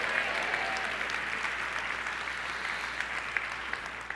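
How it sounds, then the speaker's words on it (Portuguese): A church congregation gives a sustained round of applause for the Lord, an even, fairly distant wash of many hands clapping with no speech. "Pode dar salva de palmas ao Senhor"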